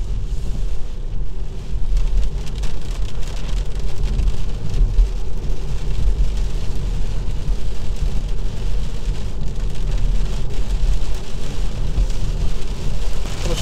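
Heavy rain pours and drums on a Kia XCeed plug-in hybrid during a thunderstorm, heard from inside the car as a dense, continuous roar with low rumbling beneath it.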